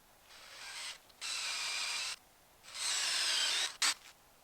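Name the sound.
drilling with small drill bit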